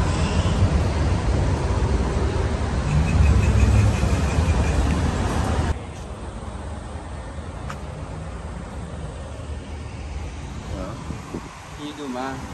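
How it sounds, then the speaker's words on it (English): Loud engine rumble from a brand new 2020 Jeep Grand Cherokee Trackhawk that was damaged in a crash, a heavy low roar that drops to a quieter steady drone halfway through, with voices talking over it. "car is obnoxiously loud"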